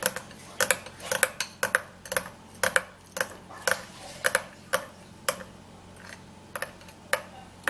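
Cucumber juice and vaseline being stirred together in a bowl, a utensil tapping and scraping the bowl in a quick irregular series of light clinks, close and fairly quiet with no talking.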